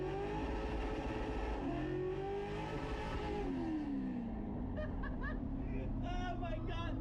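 A loud truck engine revs, its pitch gliding up and down in long sweeps before settling, with people talking over it toward the end.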